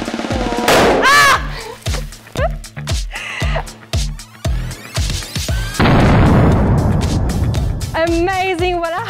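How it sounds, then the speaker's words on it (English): A balloon filled with liquid nitrogen bursts with a sudden booming blast after a run of excited shrieks and exclamations, and a sustained rushing noise follows as people react loudly nearby. "I hope you enjoyed watching this explosion"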